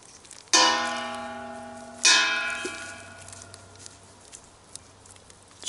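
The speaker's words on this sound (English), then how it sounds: "Church bells are ringing." Church bells in a rural sheep-farming setting, two loud struck tolls about a second and a half apart, each ringing out and slowly decaying, with a faint low hum beneath.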